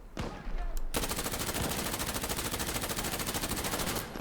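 Automatic gunfire from a weapon in Insurgency Sandstorm, a single long rapid burst of evenly spaced shots lasting several seconds, loud and close, after a brief quieter lead-in.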